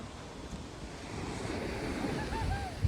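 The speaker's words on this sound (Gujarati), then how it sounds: "અહીંયા દરિયો ભરાઈ ગયો" Sea surf rolling onto the shore on an outing by country boat, a steady broad wash of breaking waves with wind buffeting the microphone, swelling slightly louder toward the end.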